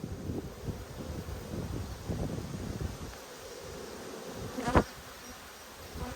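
Honey bees fly off the hive frames during an Australian backyard inspection, giving a steady close buzzing hum over light wind noise, with one brief sharp knock near the end.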